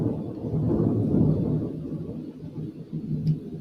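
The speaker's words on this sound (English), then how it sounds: "Thunder's intense, but we need the rain here in Central Texas." Thunder from a storm in Central Texas rolls as a deep, continuous low rumble. It is fairly loud and steady for several seconds and eases slightly toward the end, with no talking.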